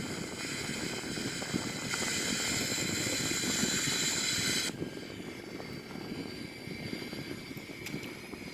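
Four-engine Airbus A340-313X airliner climbing through 13,000 feet: a steady, dense engine roar with a tonal whine that shifts and softens about halfway through, continuous and close, with no talking.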